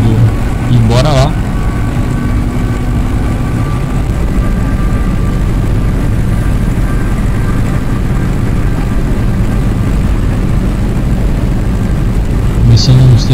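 A Caio Apache VIP 4 bus in Euro Truck Simulator 2 builds speed, its engine a steady loud drone with road rumble the whole way through. Brief chime-like tones sound near the start and end.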